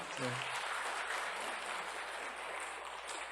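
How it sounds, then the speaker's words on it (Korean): Parish audience claps for a priest after a Lectio Divina lecture, a sustained wash of hand clapping that begins just after a brief voice and continues evenly to the end. "신부님께 다시 한번 큰 박수 쳐주세요."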